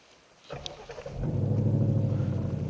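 A 2016 Ford Mustang GT with a Roush exhaust cranks via push-button start and fires up, settling into a loud, deep, throaty idle rumble from the exhaust, close by.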